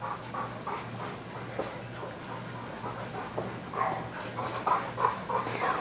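Eight-week-old Border Collie puppies give soft, high whimpers and squeaks that come in scattered bursts, growing busier toward the end over a steady low hum.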